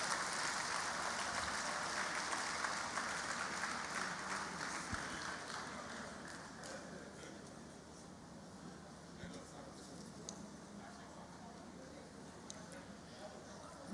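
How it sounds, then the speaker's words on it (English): An audience applauds at a Lagos history and archives event, with a dense wash of clapping that is loudest at the start and fades gradually over the following seconds. "please let's give him a very big round of applause"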